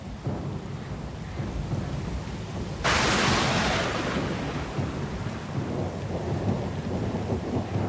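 Thunder cracks and rolls through a steady downpour in the video game Pillars of Eternity II, a loud burst partway through swelling over the constant hiss of rain around a small sloop at sea.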